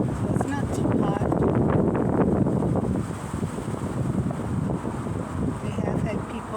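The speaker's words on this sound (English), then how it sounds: "Wind's blowing," Wind blows under a bridge at Charleston Harbor, buffeting the microphone in a loud, continuous rush with a noisy waterside backdrop.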